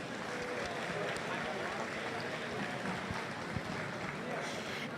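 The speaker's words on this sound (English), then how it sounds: "Let's give them another round of applause." A crowd at the HAVOC 2023 robotics competition applauds, with dense, continuous clapping that holds steady and loud throughout while voices mix in underneath.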